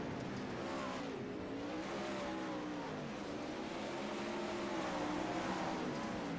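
A 410 sprint car engine races at Weedsport in iRacing, droning continuously with wavering pitch as the throttle rises and falls around the slick track, loud and steady throughout.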